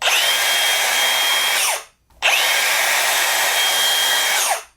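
A variable-speed angle grinder with a trigger handle and rapid stop spins up in two separate runs, each holding a loud, steady high whine before winding quickly down, with a brief silence between them.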